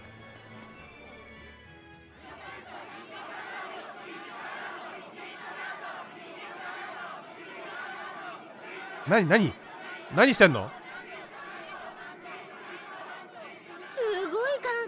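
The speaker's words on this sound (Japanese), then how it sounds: "すごい歓声じゃな" A crowd in the video game Tales of Berseria roars and chatters in a sustained, distant cheering hubbub, while louder voices break in briefly over it.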